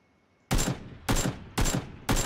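Four loud, evenly spaced gunshots ring out in the battle royale game Battlegrounds, each a sharp close crack followed by a brief decaying echo.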